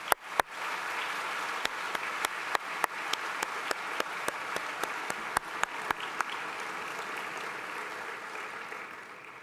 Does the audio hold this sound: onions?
no